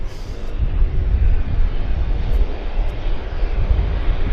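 A heavy passenger jet on the Frankfurt service climbs away from runway 06 at Vancouver Airport, its engines giving a loud, steady, close roar that continues without a break and with no talk.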